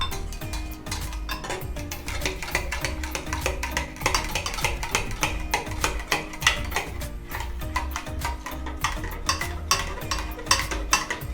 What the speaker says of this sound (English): So also I'm putting all of the milk. Hold on. I'm going to mix it.